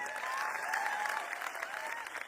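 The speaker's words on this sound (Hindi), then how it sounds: "ताली तो बजा दो, और क्या करें।" Audience applause at an Ayurveda health talk, a brief, fairly faint patter of clapping from a crowd, steady and without voices.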